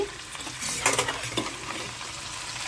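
Two spoons of ghee hit a hot pan while cooking cauliflower fried rice, giving a close, steady sizzle with scraping stirring strokes running throughout.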